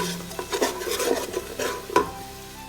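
Green herb potato pulao frying in a pot, with a spoon stirring and sautéing it, gives a sizzle under repeated scraping and clinking strokes, one sharp knock near the end.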